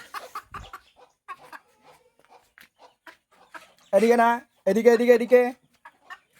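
Chickens clucking as they are herded into their coop, scattered soft clucks and squawks with a couple of louder, drawn-out calls, while a person talks and calls to them.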